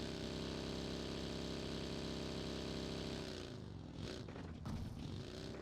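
A vehicle engine in PUBG Mobile idles with a steady buzzing drone, then its pitch shifts and it breaks up into rougher revving bursts near the end, heard without any voices.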